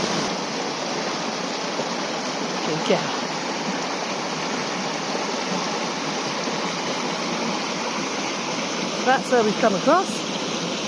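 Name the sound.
flowing stream water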